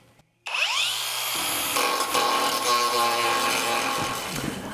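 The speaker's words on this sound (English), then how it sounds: "I first use a grinding disc on edge, and then I just carefully grind the high spots off, the worst of it" A grinding disc run on edge grinds down fillet welds on custom car fender flares for a 1959 Renault, starting after brief silence with a rising whine, then a loud, steady, harsh grinding that persists throughout.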